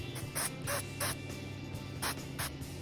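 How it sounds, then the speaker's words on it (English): Olive oil cooking spray hisses onto the edges of a frozen Tombstone pizza in short bursts, about six quick close sprays separated by brief pauses. "So I'm gonna spray along the edges"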